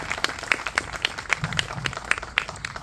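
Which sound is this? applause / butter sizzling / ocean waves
applause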